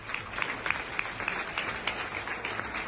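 Farewell applause for Martín Guzmán, recorded on a phone as a home video, with a steady crowd clapping and some louder bursts standing out, a little distant and thin.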